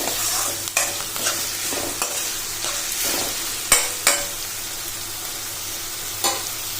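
Ginger garlic paste, peas and carrots fry in oil in a pan for puri aloo kurma, a steady hiss broken by several sharp scraping stirs, close and fairly loud, with no talking.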